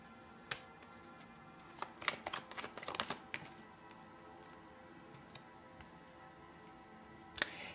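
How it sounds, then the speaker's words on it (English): Tarot cards shuffled and drawn from a deck during a reading, heard as a brief cluster of crisp ticks and flutters mid-clip with a few isolated snaps before and after, close and fairly quiet, no talking. "Let's pull out some more cards."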